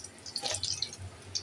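Hot oil dripping from freshly fried samosa pitha filled with Eid beef, soft scattered drips and small splashes trickling close by with no voices.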